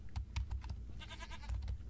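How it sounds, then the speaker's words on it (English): Goat in the Minecraft video game bleating in short wavering cries, a couple of quick bleats close by, with faint clicks like keyboard taps alongside. "Hello, goat."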